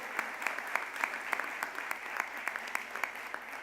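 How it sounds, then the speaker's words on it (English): Audience at an athletic hall of fame awards banquet applauding honorees, a steady, moderately quiet spread of clapping with distinct individual claps standing out, heard from across a large room. "Please give them a round of applause."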